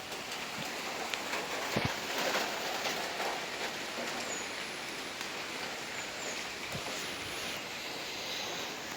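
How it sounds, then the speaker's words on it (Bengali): Heavy rain pours steadily in a dense, unbroken hiss, with scattered closer drops and splashes standing out now and then, no voices over it. "প্রচুর পরিমাণে বৃষ্টি।"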